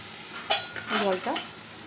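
Warm water is poured onto spices in a cooking pot for a small-fish jhal, giving a few short, close sizzling hisses and bubbling bursts over less than two seconds.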